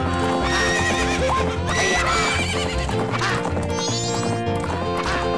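Horses neigh and gallop with clip-clopping hooves during a race in Zelda: Majora's Mask, a loud, steady run of hoofbeats and whinnies layered over game music throughout.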